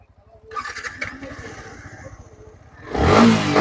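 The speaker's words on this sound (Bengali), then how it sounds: "বাহ, সাউন্ড দেখুন, মানে প্রত্যেকটা গাড়ির ইঞ্জিন যা থাকবে দেখতে হবে দাদা" A Dark Knight Black Version 3 motorcycle at a showroom near Kolkata turns over with a starter, then idles in a quick, steady chug, and ends in a loud rev burst. A voice is heard faintly.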